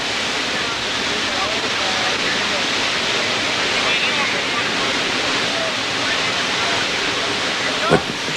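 A strong, fast river current rushes in a swiftwater rescue setting, a loud, steady, broadband roar with no break and no voices.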